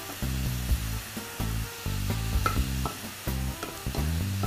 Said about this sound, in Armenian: Մինչ սունկը տապակվում է